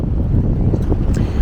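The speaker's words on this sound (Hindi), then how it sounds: "तो काफ़ी तेज़ हवा हो गई है" Strong wind buffets the microphone on an open canal tour boat in Copenhagen, a loud, rumbling low roar with gusty bursts filling the whole moment, no speech.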